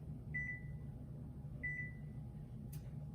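Two short electronic beeps from a kitchen oven being set to preheat to 350, spaced about a second apart over a quiet hum, followed by a brief click.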